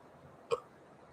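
A single short burp erupts from a person mid-monologue, a brief close, moderately loud belch standing alone against quiet room tone.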